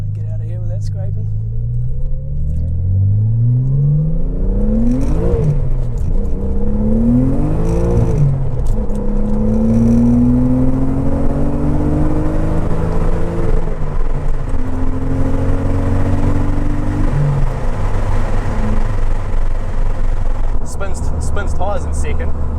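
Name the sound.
Nissan 300ZX sports car accelerating, spinning tyres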